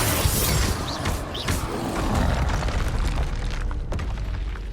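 The Bombarda blast spell goes off in the video game Hogwarts Legacy with a heavy boom at the start, followed by a rumbling, crumbling decay.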